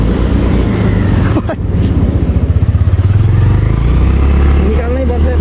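A motorcycle engine revs loud and close as the bike is pushed out over a rough road under construction, with a steady throbbing pulse that rises and falls. Voices talk over it.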